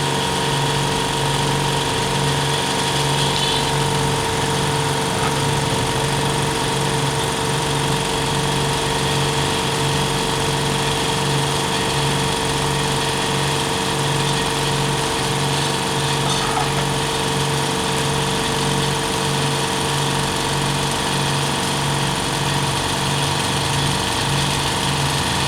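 Two Lakoni Fresco oil-less air compressors linked together run continuously with a loud, steady mechanical drone and an even, rapid pulsing throb, close by, with no talk.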